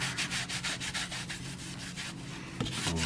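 Spilled finish is rubbed by hand into a knife sheath, a rapid series of dry rhythmic rubbing strokes up close, ending with a couple of slower, heavier swipes.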